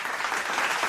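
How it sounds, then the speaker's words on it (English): A room full of people applauds steadily, a dense, even wash of many hands clapping together that carries on for the whole second without any break or voice over it. "Round of applause, everyone, for those guys."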